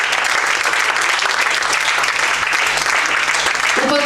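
Steady audience applause fills a sports awards ceremony hall, dense and sustained throughout at close range, with no voices standing out over the clapping.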